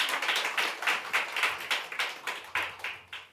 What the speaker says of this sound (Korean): 감사의 박수 드립니다.